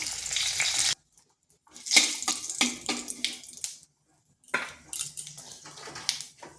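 Five-spice seeds, a broken dried chilli and a bay leaf hit hot oil in a pan, giving bursts of loud sizzling and crackling separated by short silent gaps.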